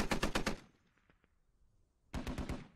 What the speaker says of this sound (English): you can still hear the 50 cal firing to the southwest